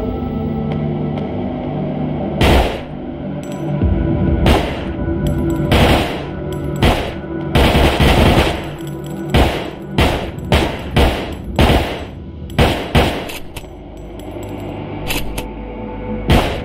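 Video game gunfire as nano rounds are shot at a target in Dark Matter: sharp, loud bursts of shots in uneven clusters over a low droning background, with no talking.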